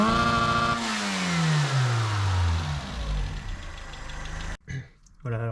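A Peugeot 205 engine fitted with a Russian carburettor revs and then settles toward a lower idle, with a loud, close, descending drone. A brief break and a few knocks come near the end.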